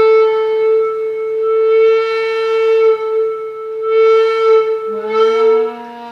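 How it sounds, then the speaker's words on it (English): Helder Evo tenor recorder played with the piano key open and lowered air pressure, a steady sustained tone that dips slightly in pitch near the end, alone and close. "And then if I drop my air pressure with it"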